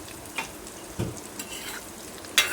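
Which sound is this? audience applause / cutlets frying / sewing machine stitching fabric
cutlets frying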